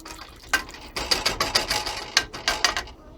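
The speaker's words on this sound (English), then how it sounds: "And I'm just going to whisk it around a little bit right now." A whisk scrapes and clicks rhythmically against a pot while stirring salt into water, a quick series of bright metallic strokes, close and alone.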